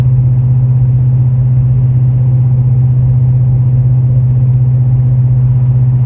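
A GMC pickup's 6.6L engine towing a fifth-wheel trailer in 8th gear, heard as a loud, constant low drone and cabin rumble with a steady engine hum and no change in pitch.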